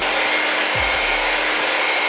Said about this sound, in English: This is the kitchen hair dryer.